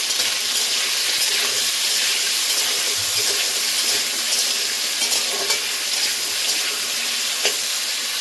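Potatoes fry in hot oil for a Bengali vegetarian dish, giving a close, continuous sizzle with light spattering and occasional soft clinks, with no voices.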